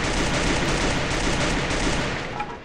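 Rapid bursts of video game automatic gunfire crackle continuously with dense, sharp reports, loud and close, tapering slightly at the end.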